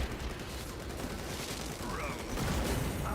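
Gunfire and a blast from the Space Marine 2 video game, a dense, loud broadband crackle of shots that runs the whole time and swells slightly toward the end.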